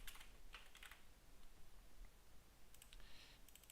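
Computer keyboard typing while player names are changed in a Hellish Quart fencing tournament setup: quick clusters of clicky keystrokes near the start and again near the end, with a quiet gap between and no talking.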